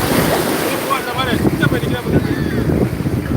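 Sea waves wash against rocks at the Tiruchendur shore, a steady loud surf roar mixed with heavy wind buffeting, and faint voices and calls in the background.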